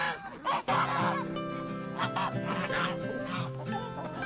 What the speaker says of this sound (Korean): 결국 거위들은 대놓고 불만을 털어놓으면서 그레이를 외면하고 자리를 떠난다.